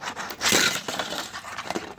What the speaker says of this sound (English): Ooh, and he's crashed out.